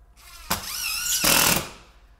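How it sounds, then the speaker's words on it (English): A hammer drill bores into wall studs while a data rack is mounted, two close, loud bursts with a harsh rattling hammer action and a rising whine, the second burst strongest. "That noise you hear, that's the hammer portion of the drill really hammering it in."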